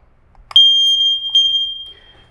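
A smoke detector being reset gives a loud, piercing high-pitched electronic beep after a click, sustained for over a second with a second pulse merging in before it fades, close and alone.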